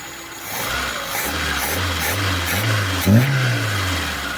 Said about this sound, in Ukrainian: Зараз вона прогріється повністю і я виставлю вам горочку і все.